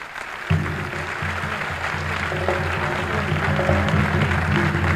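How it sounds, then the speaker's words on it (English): A large crowd at a 1994 conference in Washington, D.C. applauds, starting abruptly and continuing as dense, steady clapping at full volume, with no voices standing out above it. "It's good to see black people clapping their hands"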